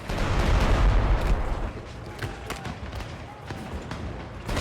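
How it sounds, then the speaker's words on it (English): Cannons firing at the North Towers in Shadow Tactics: Blades of the Shogun, a heavy booming blast up front followed by scattered thuds and cracks under faint talk. "Aim the cannons."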